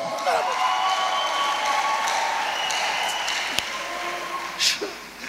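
Applause from a church congregation, a soft wash of clapping rising through a crowd beneath a voice speaking over it, with a sharp knock and a brief shout near the end.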